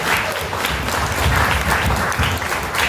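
Audience applause in a talk-show setting, dense steady clapping from a crowd for about three seconds, fairly close and even.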